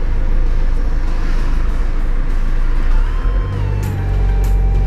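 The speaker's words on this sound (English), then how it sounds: "It's a lot of cars." Dense road traffic rumbles past without pause, a steady wash of car engines that swells as a heavier vehicle passes close near the end.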